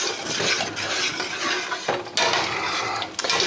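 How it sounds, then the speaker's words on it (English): Homemade chili being stirred in a metal pot, with steady scraping and clinking of a spoon against the pot sides, fairly close and continuous, with no talking. "each time I add something, I like to mix it."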